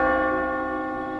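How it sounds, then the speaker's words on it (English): A Buddhist temple bell rings out with a sustained, resonant tone that slowly decays, heard alone and fairly loud with no voices. "The sound of a bell from a Buddhist temple gave hope to the desperate couple."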